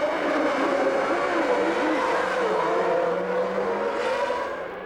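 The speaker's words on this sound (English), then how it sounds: "Schumacher's Ferrari lapping Frentzen, making it all seem so easy, even in these conditions" Formula 1 cars racing in the wet during the 1997 season, a Ferrari among them, their high-pitched engine whine droning steadily at a distance with shifting pitch as they lap, fading slightly at the end.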